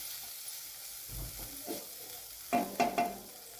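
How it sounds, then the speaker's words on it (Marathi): Capsicum curry being stirred and sautéed in a pan after yogurt goes in, with soft scraping through most of it and three louder clattering stirs near the end. "सगळ्यात शेवटी दही टाकून घेऊया. छान असं याला परतून घेऊया 2 मिनिटं."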